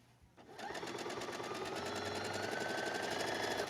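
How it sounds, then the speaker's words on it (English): A sewing machine stitches a silk hem, starting after a brief quiet moment and then running steadily with a rapid, even needle rhythm at close range and moderate volume until the end. "So you want to just sew a little bit at a time and make sure that you're folding that in"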